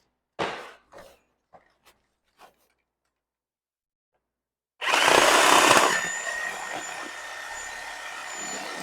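A Sawzall reciprocating saw starts up and cuts through a beef chuck shoulder with a loud, harsh buzzing whine that runs steadily once the cut begins, after a few quiet knocks and handling sounds.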